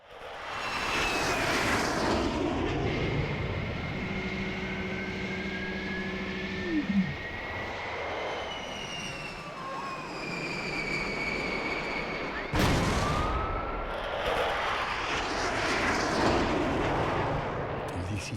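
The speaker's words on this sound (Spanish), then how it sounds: "aviones de la Marina de Guerra bombardearon la Casa de Gobierno" Navy warplanes fly over during a bombing raid on the Casa de Gobierno, a loud continuous engine roar with rising and falling whines that swell, dip and return with a sudden burst partway through.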